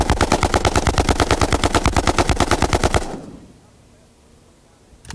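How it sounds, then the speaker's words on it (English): Automatic fire from a Hungarian AMD AK-47 variant with a short barrel, folding stock and forward hand grip: a fast, loud, even burst of about twenty-five shots over three seconds, then quiet echo and one more shot at the very end. "I tried several versions of the AK-47, including this Hungarian AMD with a short barrel,"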